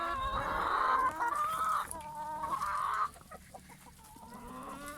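Backyard chickens clucking and squawking loudly near the coop while going after apples scattered for them, busy overlapping calls that thin out toward the end.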